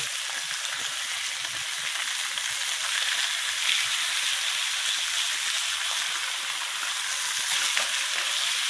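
Flanken-cut short ribs sear in a hot pan on a stovetop, producing a steady, loud, continuous hiss of sizzling fat throughout with no talking.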